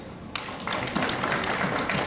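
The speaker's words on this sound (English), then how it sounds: "IRCU deserves applause" Applause from an assembly audience at a consultative gathering of an inter-religious council in Uganda, a dense sustained patter of many hands that swells after a brief start and continues steadily throughout.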